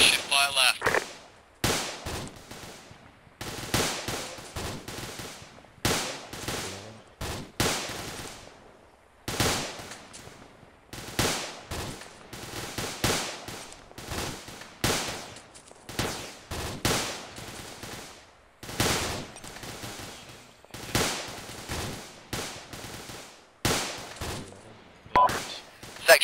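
Machine guns and rifles fired by an infantry section during assault training outdoors, sharp bursts and single shots repeating at irregular intervals, mid-distance, with shouted commands between them.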